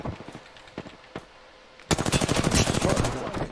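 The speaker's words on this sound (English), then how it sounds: "they're shooting me up." Rapid automatic gunfire in a multiplayer shooter game, scattered single shots at first and then a dense, loud sustained burst as enemies fire on the player, with no talk over it.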